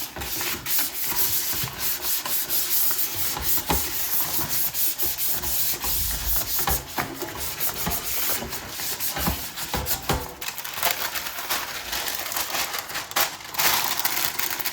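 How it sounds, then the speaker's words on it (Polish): Butter is rubbed over a baking tin and baking paper is pressed in to line it for a moist strawberry crumble cake, giving steady close scraping and rubbing with papery crinkles and small knocks, with no talk. "wysmarujemy ją masłem i wyłożymy papierem do pieczenia"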